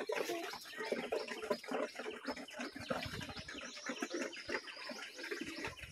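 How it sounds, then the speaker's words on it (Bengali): On a pigeon farm, faint chirps and soft calls from pigeons and a pair of pigeon chicks come in quick, overlapping bursts at a distance. "এই দেখুন এক জোড়া কবুতরের বাচ্চা।"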